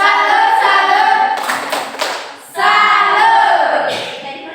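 A school class does a rhythmic clap chant to salute a student, with patterned hand claps and voices chanting along in unison, close and loud, pausing briefly midway before resuming.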